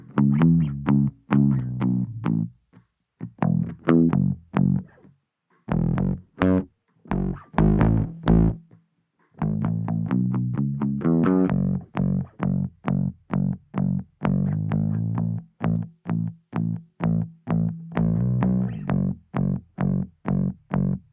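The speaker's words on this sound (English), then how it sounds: "I've got it on the distortion type P2." A DI bass guitar played alone through P2-type distortion and a 6K low pass filter, plucking steady, punchy repeated notes with a gritty, smoothed-off tone and brief gaps between phrases.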